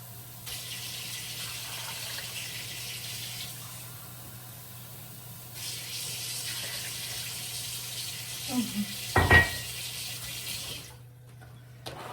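Water pours steadily into a pot of potatoes, a continuous rushing splash lasting about ten seconds over a low hum, with a few clanks near the end before it stops.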